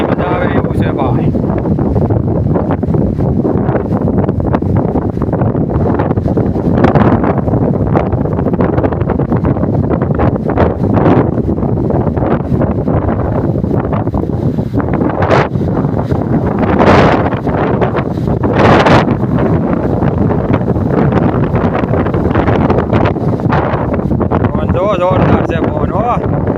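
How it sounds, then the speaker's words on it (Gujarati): Strong wind blows across hills near the Khodiyar temple, a constant loud rush buffeting the microphone for the whole stretch, with people talking through it. "જોરદાર છે પવન હો"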